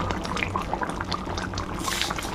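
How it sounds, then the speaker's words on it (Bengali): Sugar pours into a sweet mango pickle made with jaggery, giving a steady, close, soft grainy rush that runs evenly throughout with no talking. "তো আমি একটু চিনিও দিয়ে দিলাম।"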